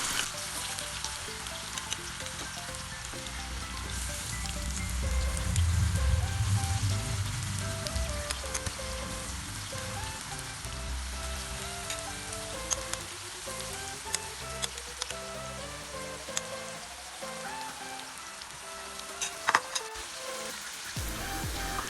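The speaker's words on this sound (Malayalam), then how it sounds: "എന്നിട്ട് നമുക്ക് അത്യാവശ്യം നല്ല രീതിയിൽ തന്നെ ഇതൊന്ന് നന്നായിട്ട് ഫ്രൈ ചെയ്തെടുക്കാം." Masala-coated prawns fry in hot coconut oil for a Kerala-style prawn roast, giving a steady, soft sizzle and crackle with scattered sharper pops toward the end.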